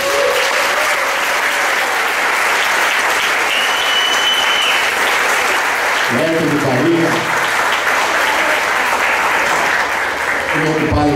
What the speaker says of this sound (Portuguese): Então quero que vocês aplaudam meus companheiros do Minas das Minas.